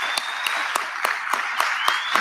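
Scattered, sparse applause from an audience at a national student induction ceremony, a handful of distinct claps spaced out at a moderate distance, no voices over them.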